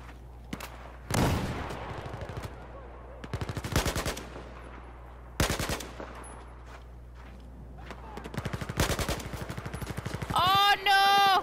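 Battlefield 4 gunfire in bursts: several loud automatic volleys at intervals, near and sharp, with quieter shots between and a whining electronic tone at the end.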